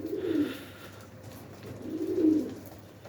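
Pigeons coo in two low, throaty bursts, one near the start and a louder one toward the end, with a quiet pause between and no voices.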